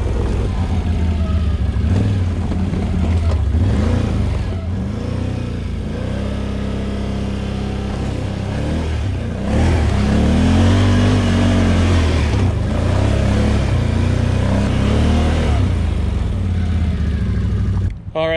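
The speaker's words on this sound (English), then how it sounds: "I've had about 15 minutes or so driving this 2021 Can-Am Outlander 850 XT model" A 2021 Can-Am Outlander 850 XT ATV engine runs steadily throughout a test ride, with its mid-pitched drone rising and falling as the throttle changes and a faint voice occasionally over it.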